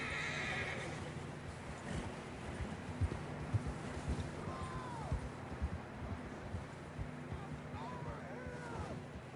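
Horses in Red Dead Redemption 2 whinny twice over a steady plod of hooves on ground, set against a low outdoor rumble, with a couple of sharp thuds in between.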